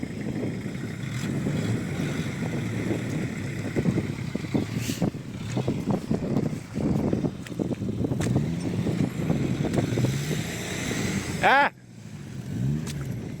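Car engine revving hard while reversing out of a muddy field, a steady loud drone with surges, wind buffeting the microphone and voices talking over it, ending in a sharp cutoff.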